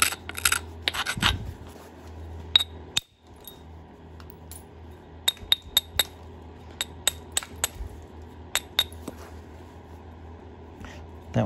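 Burlington chert being flintknapped, a string of sharp, bright clicks and ticks from striking and chipping stone, scattered irregularly over a quiet background with a few soft handling rustles.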